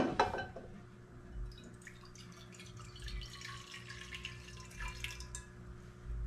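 One and a half cups of water poured into a cooking pot for rice, with a short burst of splashing at the start, then a softer trickle and light drips.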